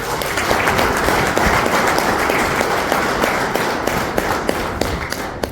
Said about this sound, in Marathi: बसल्या ठिकाणी त्यांना आपण टाळ्या वाजून शुभेच्छा दिल्या